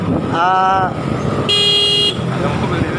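Traffic noise runs loud on a road, with a car going by and two short horn toots, one lower and one higher, over a constant rumble of motors.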